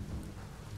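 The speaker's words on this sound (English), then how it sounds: "Oh, this rain is intense." Heavy rain pours steadily in the video game Biomutant, with a low rumble of thunder underneath, loud and continuous through the whole short moment with no talking.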